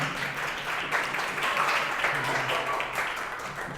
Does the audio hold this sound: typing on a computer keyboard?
no